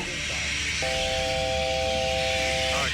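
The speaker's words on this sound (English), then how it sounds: "A big air pressure drop in the cabin pops open a vent window." Air roars and hisses steadily through a popped-open cabin vent window of a Beechcraft 1900 after a sudden cabin pressure drop. The loud, constant rush is joined partway through by a sustained whistling tone.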